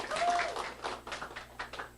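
Seminar audience applauding and cheering in a hall, a burst of clapping with shouts that thins into scattered claps, moderately loud with voices mixed in.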